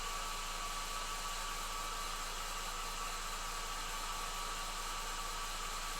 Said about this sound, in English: I'm just going to hit it with this hair dryer.